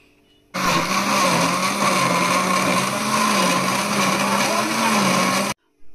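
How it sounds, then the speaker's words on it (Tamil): A mixer grinder whirs loudly and steadily as it blends a banana milkshake with cashews and ice cubes, running for about five seconds before cutting off abruptly, with no voices over it. "இதெல்லாம் போட்டு நம்ம மிக்சியில் அரைச்சி எடுத்துடலாம்"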